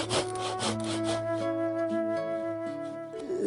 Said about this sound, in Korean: 톱질합니다.